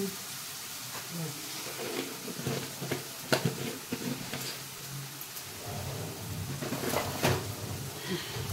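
Prawns and spices being stir-fried in a pan give a low sizzle broken by scraping and knocking of the utensil against the pan, with several louder clatters.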